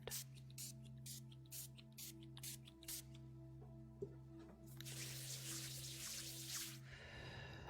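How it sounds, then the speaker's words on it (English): Orange blossom scented mist sprayed in several soft bursts in a quiet room, with a steady hum beneath and a longer hissing spray near the end. "I wanted to do this affirmation just by spraying that a little bit around."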